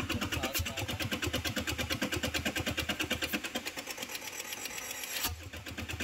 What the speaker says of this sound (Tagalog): Kahit na nagkiklicking na yung mga injectors